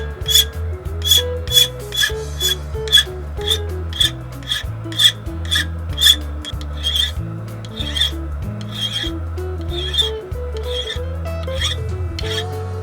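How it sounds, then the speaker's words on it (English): A metal file is pushed in steady, rhythmic rasping strokes across the tip of a forged steel nose punch, close and fairly loud over low background music, with no talking. "Now I'm filing flat the tip of the tool."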